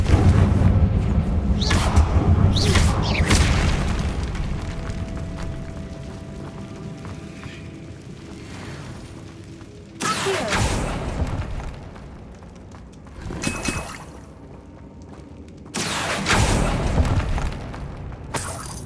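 Confringo spell blasts in Hogwarts Legacy erupt as several heavy booming explosions with crackling debris, spaced a few seconds apart and separated by quieter game ambience.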